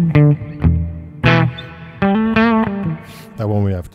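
A prototype electric guitar is played through a humbucker pickup, with short picked notes and chords ringing out with effects, and someone speaks between the phrases.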